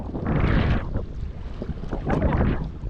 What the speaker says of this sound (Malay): Angin tengah masuk lah bang.